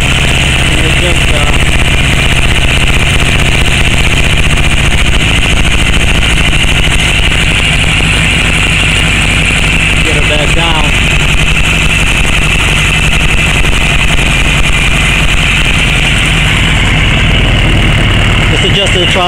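Kawasaki KZ900 motorcycle engine idling steadily during carburetor synchronizing, a loud, close, continuous rumble with a faint rise in revs midway, someone talking over it.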